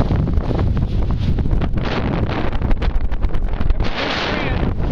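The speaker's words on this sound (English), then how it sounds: "The wind is gusty and blowing pretty hard" Gusty wind blows hard on a Jamaican beach at a kiteboarding spot, roaring steadily into the microphone with constant buffeting and rumble and no pause, loud and close.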